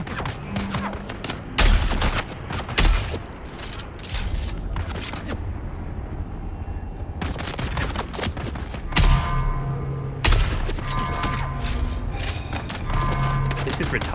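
Gunfire in the Dune Awakening video game, fired near tall defensive walls: repeated loud bursts of shots come in several clusters, with quieter stretches of game ambience between them. Someone talks at times over the shooting.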